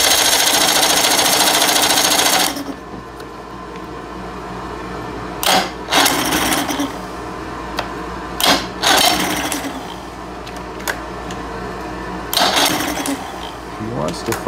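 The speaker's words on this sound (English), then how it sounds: "I just got to turn on my little switch back here for my battery, and we'll give it a crank" A 1990s 30 hp Evinrude outboard cranks over on a weakening battery, a loud steady starter whir for a couple of seconds, then quieter stretches broken by short clicks and bursts.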